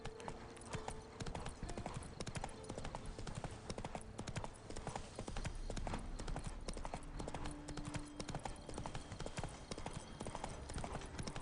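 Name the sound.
horse hooves clip-clopping in a video game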